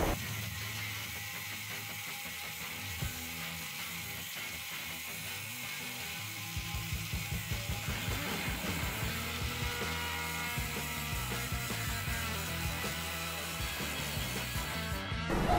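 A Kyuho LG 100 four-inch hand angle grinder cuts through threaded steel rebar, giving a continuous, fairly faint grinding whine that turns to a rhythmic, pulsing rasp partway through and runs steadily without speech.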